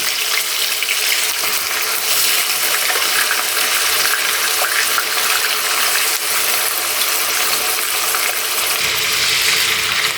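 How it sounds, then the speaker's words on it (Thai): Steady, dense sizzling and crackling of chicken pieces frying skin-side down in hot oil, loud and continuous throughout with no talking. "พอน้ำมันร้อนก็ ใส่ไก่ลงไปครับ ใช้ด้านหนังไก่ลงไป"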